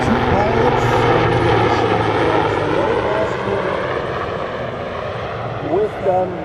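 A Super Puma helicopter flies a display at the Antidotum Airshow in Leszno, its rotor and turbine roar steady and loud. An announcer talks over it.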